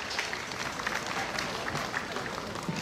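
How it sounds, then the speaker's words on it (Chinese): Audience clapping at a university anniversary opening ceremony, welcoming a councillor to the stage; a short, steady burst of applause from a sizable crowd, moderately loud and continuous. "我们热烈掌声欢迎黄杰议员跟我们年轻的学子勉励几句"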